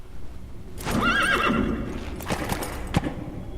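A horse in the video game Metal Gear Solid V: The Phantom Pain neighs loudly, a single shrill whinny, followed by snorting and a few hoof clops nearby.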